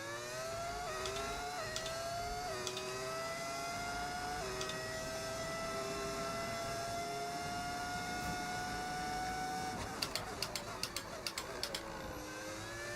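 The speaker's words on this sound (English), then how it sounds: "my engine sounds so bad. It is literally on the brink of death." Race car engine in the F1 25 video game, failing and near death, a whining tone that climbs through gears in steady upshifts and then breaks into sharp crackling pops near the end. No one talks over it.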